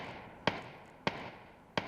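Three sharp, isolated gunshots in PUBG ring out about half a second apart over a quiet, steady background hum.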